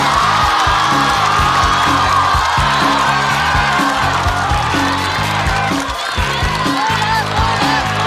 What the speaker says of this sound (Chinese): 掌声欢迎呼兰。